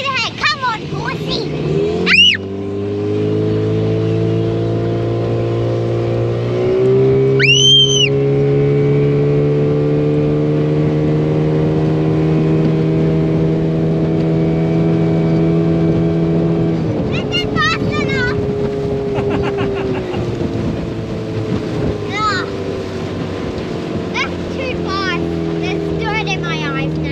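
An outboard motor drives a small boat on a cruise during a mud crabbing outing, its steady low drone running throughout with a brief rise in pitch near the start, while people talk over it at times.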